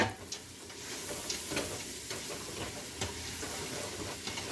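Bacon and brown sugar are stirred in a pot for a bacon bourbon jam, giving soft scraping and gentle sizzling with light clicks of the spoon, close and fairly quiet with no talking.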